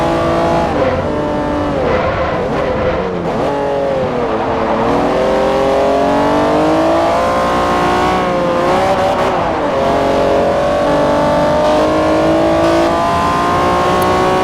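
Honda S2000 engine in the racing game Forza Motorsport 4, revving loudly and continuously with rising and falling pitch through gear changes, alone without talk.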